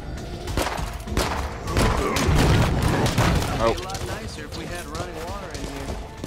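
Rapid gunfire and booming impacts in the zombie survival video game State of Decay 2, loud and dense through the first few seconds, with someone talking over the shooting.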